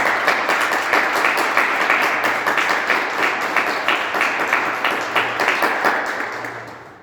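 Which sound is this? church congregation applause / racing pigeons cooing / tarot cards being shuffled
church congregation applause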